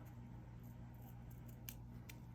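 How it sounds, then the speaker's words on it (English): Small scissors snipping washi tape while trimming a junk journal picture flip, a few quiet crisp cuts over a steady low hum. "Okay, I'm gonna get my little scissors."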